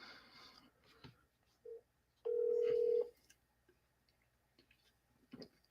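A phone call rings out: a single steady tone about a second long sounds clearly between soft clicks, faint room noise and a few scattered quiet sounds.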